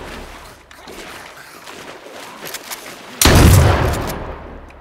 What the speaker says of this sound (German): Natürlich habe ich geschossen.